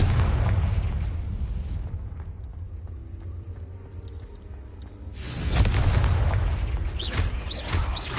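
A Confringo fire spell detonates in the video game Hogwarts Legacy, with a heavy booming blast at the start, a quieter rumbling lull, then a second loud explosive burst near the end.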